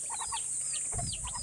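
Soft, repeated clucking from a mother hen with a few higher chirps from newly hatched ducklings, fairly close, with a steady high background hiss throughout.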